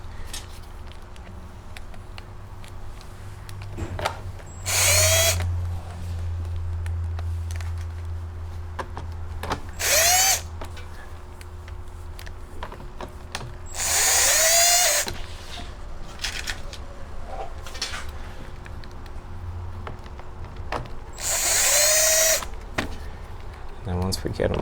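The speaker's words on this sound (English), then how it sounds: "So we'll get those screws in real quick." A power drill drives screws into a generator head in several short whirring bursts spaced a few seconds apart, with someone talking quietly and faint handling noise between the bursts.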